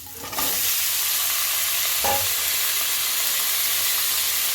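Cut squash and pointed gourd hit hot oil in a pan with a sudden loud sizzle that settles into a steady, close frying hiss, broken by a single spatula scrape.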